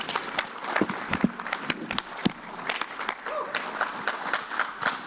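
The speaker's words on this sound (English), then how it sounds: "So please, with a gracious round of applause," Audience at an auto dealers' workshop applauds to welcome a panel of dealer guests, a steady patter of clapping with scattered sharper claps, moderately loud and filling the room.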